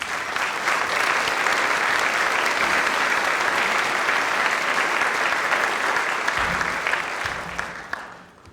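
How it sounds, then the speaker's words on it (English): Sustained applause from an audience at a community foundation's annual meeting, steady and full for about seven seconds before tapering off near the end. "let's give him a round of applause"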